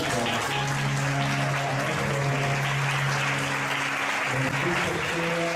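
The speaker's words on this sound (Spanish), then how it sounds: "Le regalamos un fuerte aplauso" A church congregation gives a loud, sustained round of applause at a Spanish-language Sunday service, steady clapping filling the room throughout, with sustained musical tones, likely keyboard or organ, running beneath it.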